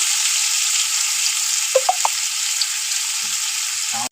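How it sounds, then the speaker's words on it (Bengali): Boiled vegetables frying lightly in butter in a pan, a steady close sizzle throughout with a few brief clinks and stirring scrapes partway, ending abruptly. "সবজিগুলো দিয়ে অল্প করে ভেজে নিচ্ছি"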